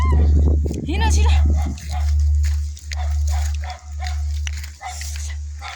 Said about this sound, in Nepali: कुकुर आयो